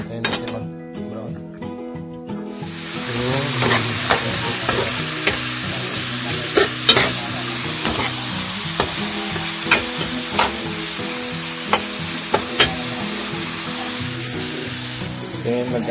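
Meat for shawarma browns in a pan with a constant crackling sizzle, broken by repeated metallic clinks and scrapes of a utensil stirring, with music playing underneath.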